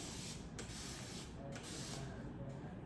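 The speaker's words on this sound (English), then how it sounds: "let me go in and spray everything." A steady spray of water hisses close up in long bursts onto the hair of a wavy lace wig, broken by a few brief pauses where the nozzle is released.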